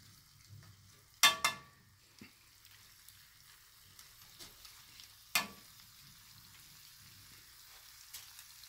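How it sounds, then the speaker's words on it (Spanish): Pasta with shrimp in a chipotle cream sauce is stirred in a hot pan, giving a faint simmering sizzle broken by a few sharp scraping clinks of the utensil. "Le revolvemos."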